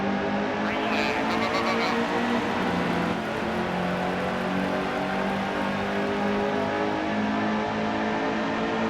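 Race car engine in NASCAR Heat 2 accelerating hard from the start of a race, a loud continuous roar with rising revs and gear changes, alone without talk.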